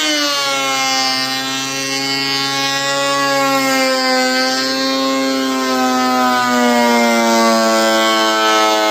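A wood planer runs through its final pass on a board, producing a loud, steady motor whine rich in harmonics, with a slight pitch dip near the end.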